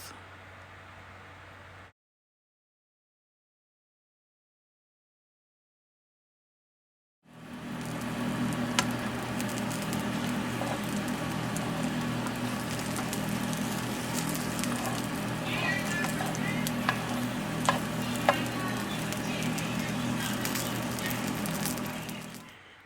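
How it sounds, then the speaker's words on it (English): Chiles and two garlic cloves sizzle in a tablespoon of oil in a skillet for red pork pozole. The frying makes a steady, close crackle with small pops, and it follows a short stretch of faint sound and then silence. "1 tablespoon of oil in a skillet and 2 garlic cloves. And you are going to saute them"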